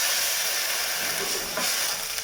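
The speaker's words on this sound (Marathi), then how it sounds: "ग्लास पाणी टाकते" A glass of water poured into a hot pan holding moong vadi with turmeric powder and salt gives a loud, steady hissing sizzle with steam that holds throughout, with no talk.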